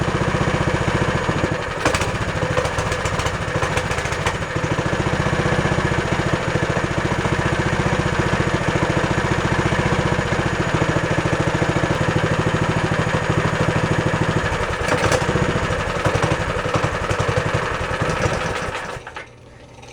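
A cheap mini bike's small engine idles roughly and unevenly with a buzzy, sewing-machine-like rattle, close and loud for most of the clip before cutting out near the end.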